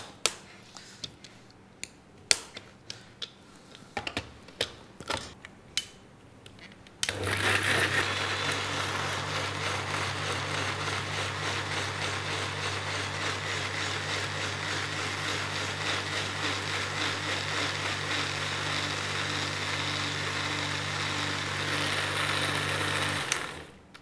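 Cooked tomatoes for soup being ground in a blender: after several sharp clicks and taps, the motor kicks in with a loud, steady whirring drone that runs near-constant for about seventeen seconds before cutting off.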